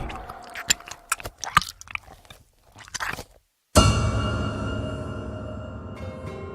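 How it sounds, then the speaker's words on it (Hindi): Cartoon monster's chewing and biting effect as it swallows a girl in an animated jungle horror story: a run of sharp crunchy bites, a brief silence, then a loud sustained squelchy swallowing rumble, with no voices. "उस नीलकमल से लपलपाती हुई एक जीभ बाहर आई और सौम्या को निगल गई"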